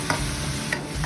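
Curry leaves and asafoetida stirred briefly in hot oil, a close, short burst of sizzle with a few scraping strokes of a spoon against the pan.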